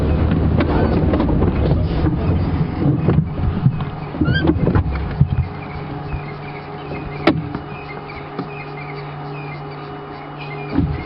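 A safari vehicle engine idles and rumbles steadily up close during a sunset wildlife drive, with a louder stretch at first, while birds and insects call faintly in the background.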